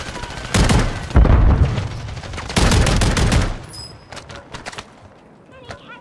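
Gunfire in the game Call of Duty Warzone Rebirth Resurgence comes as heavy bursts of rapid shots with booming impacts, loud and close for a few seconds, followed by sparser, fainter single shots.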